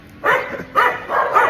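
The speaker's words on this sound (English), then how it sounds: "they just bark at me" Dogs bark at dawn on a street in Canggu, three loud close barks spaced about half a second apart.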